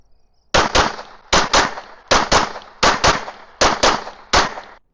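A CZ75 open-class race pistol fires 137-grain rounds in six evenly spaced pairs of sharp, loud reports, each double-tap ringing out briefly before the next, with no talking.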